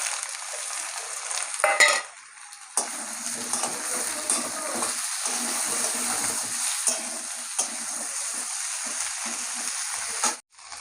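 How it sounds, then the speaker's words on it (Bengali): Chopped onion drops into a pan of frying potatoes with a loud hiss, then a steady sizzle continues as a spatula scrapes and stirs in intermittent strokes, close and clear. "এখন এই পেঁয়াজ কুচিটা দিয়ে দেবো"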